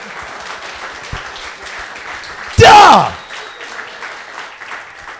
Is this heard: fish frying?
no